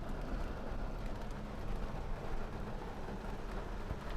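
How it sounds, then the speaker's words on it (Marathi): Steady rain drums on a Tata Nano during a night drive, a dense, even hiss blended with road rumble throughout, fairly quiet and with no voices. "पाऊस पण सुरू आहे"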